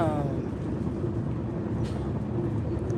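Inside a moving train, a continuous low rumble and rolling noise fills the carriage, steady and fairly loud, with faint higher rattles and a brief murmur near the start.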